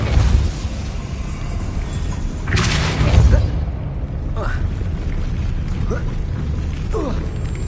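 Depulso spell cast in Hogwarts Legacy, a burst of magical whoosh and impact landing mid-clip amid a busy, rumbling game soundscape, with a second softer hit later.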